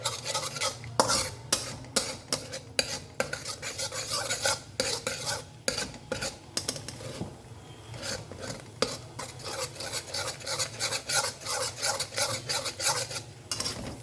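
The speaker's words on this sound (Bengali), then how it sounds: "এটাকে একটু নাড়িয়ে চাড়িয়ে এই পাশ দিয়ে ভেজে নেব।" Stirring and frying an egg and paneer filling in a pan for a kid's paratha tiffin, a spatula scraping and tapping against the pan in irregular bursts over a faint sizzle, with no talk.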